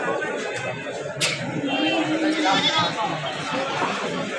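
A male goat bleats amid a busy livestock market, one clear cry standing out near the listener over steady crowd chatter and voices of people haggling nearby.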